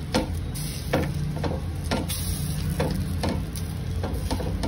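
Bajra bhakri sizzles steadily on a hot tawa over a medium-high gas flame after water is sprinkled on top, a constant crackling hiss broken by faint regular ticks, close up and without voices.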